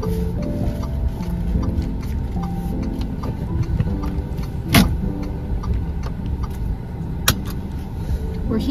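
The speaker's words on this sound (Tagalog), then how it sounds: "Mom's parking here at SM Hypermarket." A car idles and creeps into a parking spot at an SM Hypermarket lot, a steady low engine rumble with two sharp clicks, close and continuous throughout.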